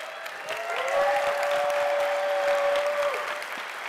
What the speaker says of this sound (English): The louder you clap during my presentation